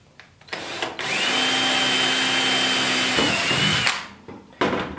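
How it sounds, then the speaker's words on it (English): A power drill cuts a second hole into a plastic five-gallon bucket, one continuous close whirring run of about three seconds with brief handling noises before and after, no voices. "Now we can drill our second one."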